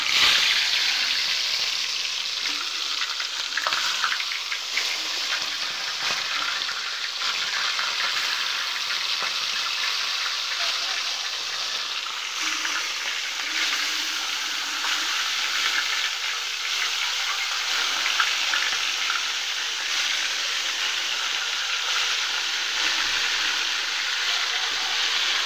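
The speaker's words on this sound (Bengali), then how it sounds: "তেলটা গরম হয়ে গেছে, এর ভিতরে আমি দিয়ে দেব এই মাছ।" Pieces of rohu fish sizzle and spit steadily in hot oil, a loud, continuous frying hiss lasting throughout with no voices.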